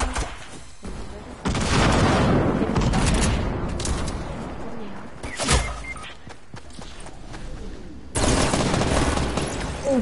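Loud, dense gunfire from a first-person shooter video game, with shotgun blasts among bursts of shots, sharp bangs near 5.5 seconds and a fresh burst near 8 seconds, over game noise.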